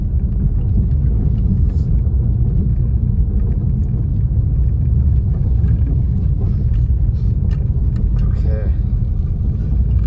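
A car drives a snowy mountain road near a lake during a blizzard, giving a steady, loud low engine and tyre rumble throughout with faint road noise, and a person talks over it.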